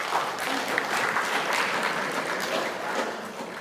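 Audience applause at a university diversity presentation, a dense steady clatter of many hands clapping throughout, fairly close and even in loudness.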